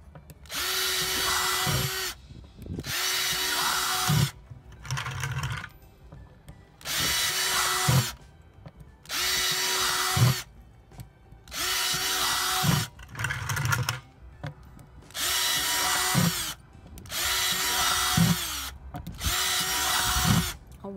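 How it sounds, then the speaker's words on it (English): A power drill whines drilling holes in a plastic bucket, in repeated bursts of about two seconds each, roughly eight times, with short pauses and clunks between, close and loud. "Now I'm gonna drill some larger holes."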